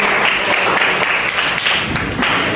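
Students in a classroom give themselves a round of applause, a dense, steady clatter of many hands clapping together, fairly loud and close, with no talking over it.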